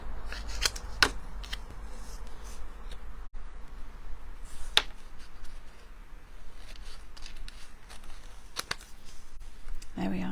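Cardstock is trimmed for a handmade card with a paper trimmer or scissors, giving a few quiet, short crisp cutting snips amid light handling noise.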